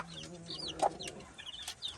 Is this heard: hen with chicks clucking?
yes